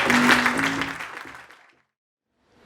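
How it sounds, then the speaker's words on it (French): An audience at a conference on youth employability in Africa applauds in a short burst that dies away into near silence within about two seconds, followed by a faint trace of sound. "Veuillez s'il vous plaît applaudir très fort Monsieur Ibrahima Deolam."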